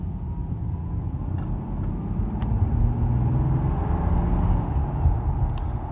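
A Mercedes accelerates on a road during a test drive, heard from inside as a steady low engine and road rumble that builds gently, with no talking.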